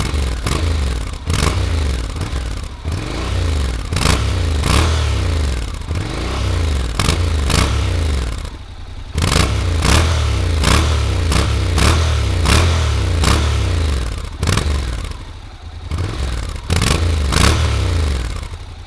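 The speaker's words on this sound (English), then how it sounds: "I'll record the audio of the standard muffler and then we'll compare it to the GPR muffler" A Honda NC750X motorcycle with its standard stock muffler runs close by, a loud, steady engine drone broken by regular sharp clicking and clattering pulses throughout.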